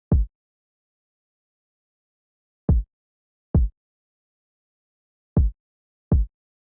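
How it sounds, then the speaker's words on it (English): Drill beat kick drum playing alone: five deep, punchy booming hits in a sparse, syncopated pattern with silence between, one early and then two pairs spaced apart. "the kick pattern ended up sounding like this."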